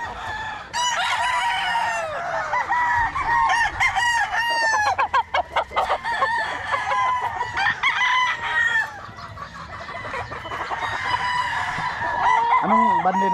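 Golden Boy roosters on a farm crow repeatedly and loudly, several birds overlapping, with steady clucking from the flock between the long calls.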